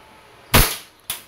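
An EMG Pit Viper airsoft pistol firing a single sharp, loud crack up close, followed about half a second later by a shorter, quieter snap, with near silence around them.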